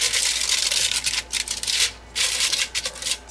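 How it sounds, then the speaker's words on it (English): Aluminum foil crinkles and rustles as it is handled and pressed into an air fryer basket for cooking catfish, a broad papery crackle in bursts with short pauses, close and fairly loud, no talking. "So just line it up with some aluminum foil."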